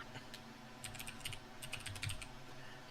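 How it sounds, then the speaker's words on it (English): Loud, clicky computer keyboard typing during a Magic: The Gathering live stream, a steady run of sharp keystrokes close to the mic with no voice over it. "I am so sorry that my keyboard is so loud"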